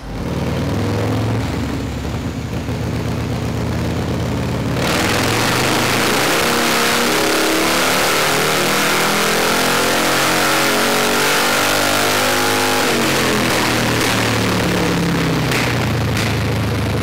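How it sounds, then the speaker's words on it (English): A fuel-injected Harley-Davidson motorcycle engine revs hard on a dyno and climbs steadily in pitch for several seconds, then drops back, loud and continuous with no talking. "spend a bit of time with this bike on the dyno, really open it up"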